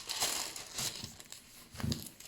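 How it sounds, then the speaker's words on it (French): Transparent protective paper crinkles as it is laid back over a diamond painting canvas, three short rustling bursts close by, with no talking. "J'essaie de bien replacer le papier quand même."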